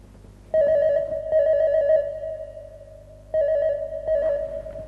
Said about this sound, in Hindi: अनीता, मैं जानता था कि तुम्हारा फोन जरूर आएगा।